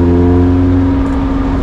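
A 2022 Caterham Seven 620S sports car engine runs loud and close with a steady, deep harmonic drone, holding a constant high idle or revving without much change over under two seconds.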